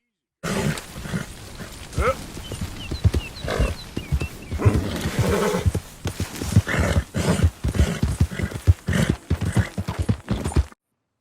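A horse in the video game Red Dead Redemption snorts and whinnies near the listener, its hooves clip-clopping over lively in-game ambience throughout.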